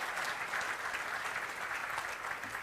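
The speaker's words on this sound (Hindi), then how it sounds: "मैं उनके लिए चाहूँगा ज़ोरदार ताली बजाइए।" Steady, dense applause from an audience fills a Yash Chopra National Memorial Award ceremony hall, loud and sustained without a break.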